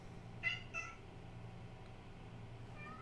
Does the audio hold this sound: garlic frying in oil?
no